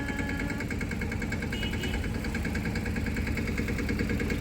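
A steady tractor diesel engine idles and chugs with an even, knocking rhythm, fairly close and continuous throughout, with no voices.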